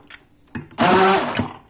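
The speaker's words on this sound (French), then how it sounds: "Et on mixe le tout." A kitchen blender whirs loudly as it mixes cauliflower, egg and melted cheese, starting after a short clunk and running as a steady close motor roar.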